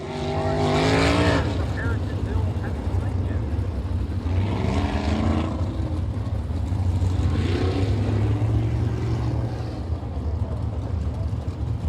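Dirt-track race cars in the NCRA All-Star Eastern Shootout at Cannonball Speedway, Saint Clairsville, Ohio, roar past in repeated swelling engine passes over a constant motor drone, with a voice talking over them.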